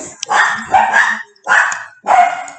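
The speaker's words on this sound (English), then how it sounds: "I'm sorry about our dogs. Somebody just rang our doorbell." Several dogs barking indoors after a doorbell rang, four loud, close bursts of overlapping barks and yips separated by short pauses.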